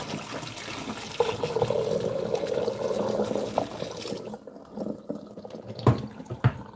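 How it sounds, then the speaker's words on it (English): Boiling water pours into a partly blocked sink with a steady rushing, gurgling flow for about four seconds, then stops, leaving a few faint clinks and knocks. "I'm just putting some boiling water down the sink."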